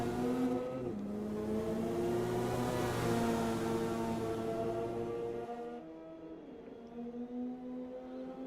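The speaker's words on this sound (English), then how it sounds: "Off the rev limiter of that FD. That's the way the RX-7 likes to be ran." A Mazda RX-7 FD in a racing game at Suzuka screams at high revs, bouncing off its rev limiter in a loud, steady buzzing drone that dips and shifts pitch partway through before climbing again.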